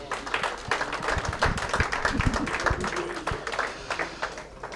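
An audience applauds a football player honoured as player of the month, a brief, fairly close scatter of clapping hands with some voices mixed in.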